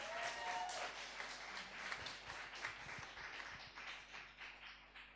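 An audience at a music showcase applauds a singer, a dense, steady wash of many hands clapping that fills the whole stretch at moderate loudness and thins slightly toward the end.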